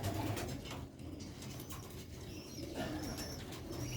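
Sialkoti pigeons on a rooftop loft coo in low, soft rolling calls, fairly faint and close, with a few chirps and light wing or movement noises around them and no talk.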